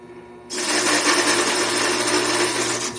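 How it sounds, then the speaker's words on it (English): A Vevor 7x14 mini metal lathe cuts a groove in a metal washer. The motor's whine starts abruptly and then holds a steady, close, even drone, with no talk. "Cutting a groove in that washer."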